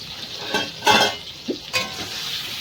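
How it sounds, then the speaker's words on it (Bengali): Eggs fry in a pan with turmeric and chili powder, a soft sizzle punctuated by a few louder bursts of spatula stirring and scraping close by. "দিয়ে ভালো করে ভেজে নেব, যাতে ডিমের কালারটা খুব সুন্দর আসে।"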